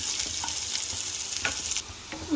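Chopped green onions fry in a pan over low heat, giving a steady close sizzle with occasional stirring scrapes and clinks throughout.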